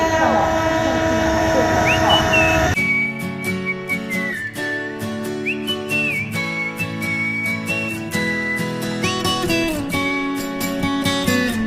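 Lao-China Railway train pulling into a station on the route from Yuxi toward Kunming, with a loud sustained rumble, bright squealing tones and whistle-like pitches, and a sharp shift in sound partway through as the train draws close.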